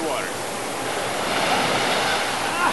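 Pacific Ocean surf in winter, a steady broadband wash of waves rolling and breaking close by, continuous and fairly loud with no clear pauses between swells.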